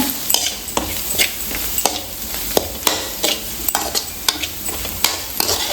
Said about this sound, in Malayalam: എന്നിട്ട് നമുക്ക് അതൊക്കെ നന്നായിട്ടൊന്ന് ഇളക്കാം